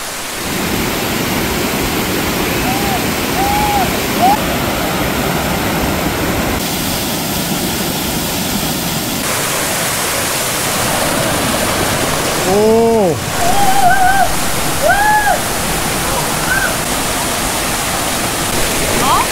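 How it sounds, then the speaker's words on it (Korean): A mountain stream and waterfall rush continuously along a Jirisan hiking trail, a loud, steady broadband roar with a few brief bird calls above it. "물소리가 들리고 있습니다."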